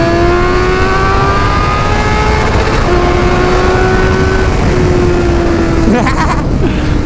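A 2020 Honda CB1000 motorcycle accelerates hard, its loud engine note climbing steadily through the gears with distinct rising tones as each gear is held. Heavy wind roar sits underneath, and a brief voice is heard near the end.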